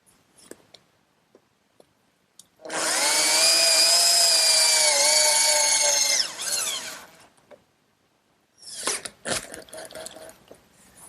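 A power driver whines loudly for about four seconds as it drives screws into a wooden bed rail for a pencil post bed, then the wood knocks and clatters when handled.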